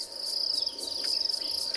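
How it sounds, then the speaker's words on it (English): A grasshopper rubs the serrated edges of its legs vigorously against its body, making a steady, close, high-pitched buzzing trill that pulses slightly throughout, with no talk over it. "that is the way that this grasshopper makes that sound, that buzzing sound"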